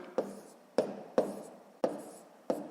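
A pen taps and scratches on paper while numbers are written in a column multiplication, giving five sharp, evenly spaced strokes close by in a quiet room.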